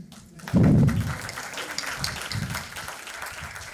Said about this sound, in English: You have encouraged me with your cheers and applause